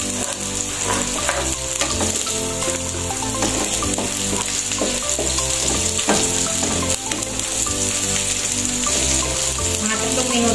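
Browned garlic and onion sauté in a pan for a Filipino ginisang squid dish with celery: a steady, close sizzle that runs unbroken, with background music playing over it.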